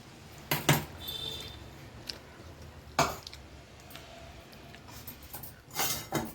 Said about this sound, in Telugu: స్టవ్ ఆన్ చేసుకొని ముందుగా ఒక గిన్నె అయితే పెట్టుకున్నాను.